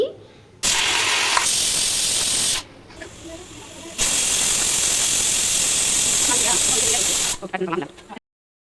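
Pressure cooker steaming on a stove with its whistle on, making loud sustained hissing bursts that stop and start, with brief mechanical clicks between them and no talk.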